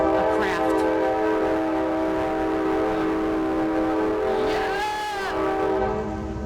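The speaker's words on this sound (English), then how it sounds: "I wish we were riding that train." A train horn blares loud and sustained with layered harmonic tones over the rumble of a passing train, swelling again near the end.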